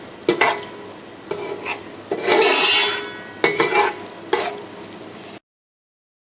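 Onions fry in a pan, a close hiss that swells and fades as they are stirred, with sharp metal scrapes and clinks of a spoon against the pan before it cuts to silence.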